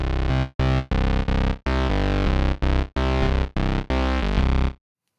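Acustica Audio's Jupiter synth clone, run through its original Jupiter filter, plays a sequence of loud, thick sustained chords. Each chord is cut off by short gaps, and the full, buzzing tone stays up front with no voice.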